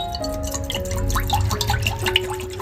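Whey water drains and drips from freshly made chhena for rasgulla, a steady close trickle with scattered individual drips over a continuous watery patter.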